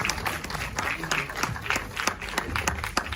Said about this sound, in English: Please, a round of applause for her.